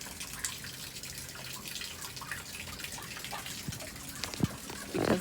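Rainwater drips through a drain just above a room, a faint, irregular patter of drops and trickling water against a soft background hiss, with a few louder drips near the end.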